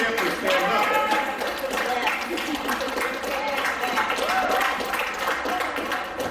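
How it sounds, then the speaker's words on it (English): Banquet audience at a college student success event applauding steadily throughout, a dense, continuous wash of clapping with some voices mixed in. "Give yourselves a round of applause"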